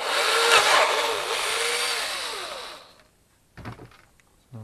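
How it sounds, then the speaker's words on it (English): A power drill with a 5mm bit whines steadily as it bores through a plastic drone transmitter case for about three seconds, then stops; a few brief handling clunks follow. "I'm just going to go through with a 5mm drill bit first"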